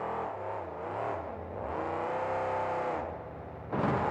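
Monster truck engine at a 2002 KORR Monsters arena event in New Orleans, revving loud and sustained with rising and falling pitch as the truck wheelies over a stack of vans, with a sharp burst near the end.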